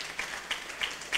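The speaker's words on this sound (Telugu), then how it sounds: "గట్టిగా చప్పట్లు కొట్టండి" A church congregation claps hands loudly, a short burst of applause from a crowd with repeated sharp claps.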